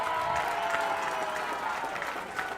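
Applause from the crowd at the Sri Lanka Rowing Nationals award ceremony for a school's junior girls' gold medal win, a steady, moderately distant patter of clapping with a faint tonal hum beneath.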